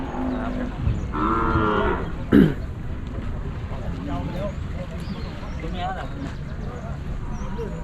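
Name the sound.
cattle at a livestock market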